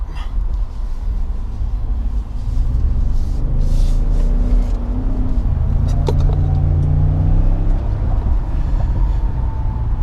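A 2021 Ford F-150 with the 2.7 engine pulls out on wet pavement, its engine rumbling low and rising steadily into gentle acceleration, close and continuous with road noise and no talk.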